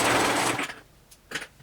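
A serger sewing machine chains off fabric past the presser foot with a loud, dense, rapid whirring burst that cuts out, followed by two brief, quieter stitching bursts.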